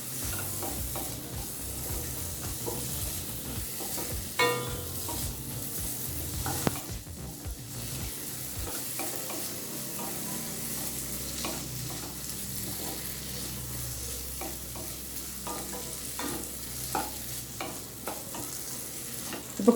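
Crushed turkey berries being sautéed in a pan for tamarind kuzhambu, a steady close sizzle with frequent stirring scrapes and clinks throughout, no talking.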